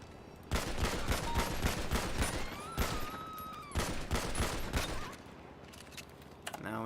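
Rapid bursts of gunfire from a gun in a roleplay video game, loud and close, with repeated sharp shots crackling over about four seconds before tapering off.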